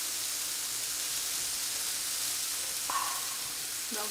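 Mushrooms frying in a hot pan give a steady, even sizzle and hiss close up, with a faint clink near the end and no talking.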